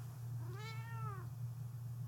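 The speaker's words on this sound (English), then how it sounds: "That was my cat." A single drawn-out cat meow, clear and fairly close, rising then falling, over a steady low electrical hum.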